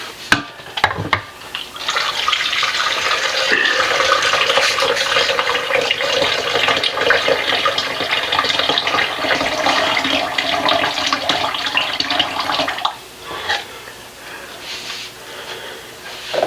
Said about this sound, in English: I got to go to my water filter to get some water